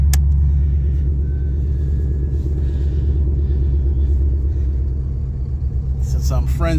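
A 1983 Oldsmobile Cutlass Supreme idles with a steady low rumble throughout, loud and close, ending in a few brief higher sounds near the finish.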